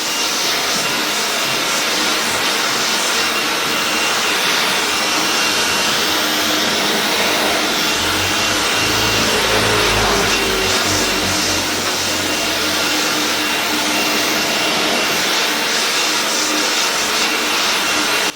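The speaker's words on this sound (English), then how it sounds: "the Parkside 20V cordless blower is definitely a smart upgrade for your garden tool collection" A Parkside 20V cordless leaf blower (PAUGB A1) runs steadily in a garden, giving a loud continuous airy whoosh with a brief deeper surge partway through.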